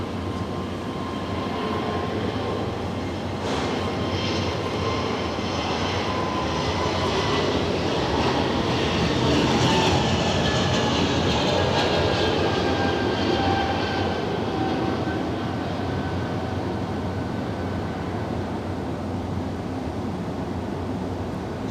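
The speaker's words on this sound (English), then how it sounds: "Avion Express is departing next in a Casper liveried" An Avion Express airliner in Casper livery departs Zurich Airport, its jet engines roaring steadily at a distance with a broad rumble and rising whine that swells and slowly fades.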